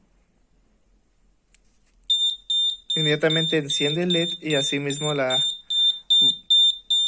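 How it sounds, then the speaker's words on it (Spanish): A door/window alarm sensor's buzzer sounds in a rapid, steady series of shrill electronic beeps that starts abruptly and continues while someone talks over it. "el buzzer pues empieza a sonar, y cuando la puerta es cerrada deja de sonar"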